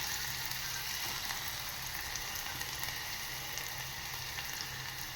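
Chopped onion sizzles in hot oil in a pan while preparing a suran (yam) bhaji, a steady, even crackling hiss without voices.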